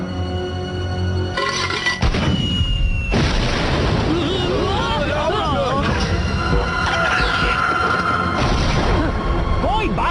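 Cartoon firing and explosions in a Slugterra battle: continuous loud booms, blasts and whooshing effects under dramatic music, with voices shouting over the action throughout.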